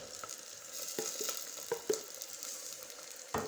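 Tomatoes added to spices frying in a pan for kadhi pakora, giving a bright steady sizzle with scattered stirring clicks and taps, close and fairly quiet, no speech.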